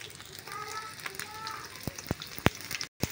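Garlic paste sizzles softly in hot oil in a pan, a faint steady crackle with a few sharp pops near the end.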